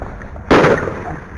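A single loud gunshot cracks out sharply at close range during a violent confrontation, its sudden broadband blast decaying over about a second into a noisy background.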